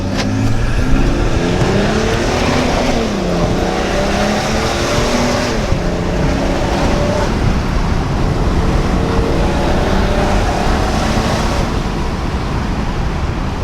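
BMW 335 diesel car driven hard on a road, engine loud and close with rising and falling pitch as it accelerates and shifts, over a constant roar of tires and wind.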